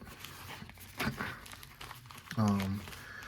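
A single mail package cut open and unwrapped for a Yu-Gi-Oh! card delivery, with close crinkling and tearing of packaging and a louder rip near the end, under a person talking.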